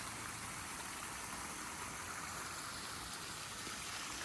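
A backyard pond waterfall gives a soft, continuous rush of falling water, steady and unbroken throughout, heard faintly from a short distance with no voices.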